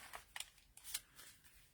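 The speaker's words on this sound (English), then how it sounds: "then we're going to cut this down" Paper being cut with scissors for a junk journal folder, a few quiet, quick snips in an irregular rhythm, close and alone.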